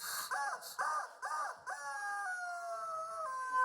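A rooster crowing sound effect rings out loud and close, with three short rising calls followed by a long drawn-out final crow.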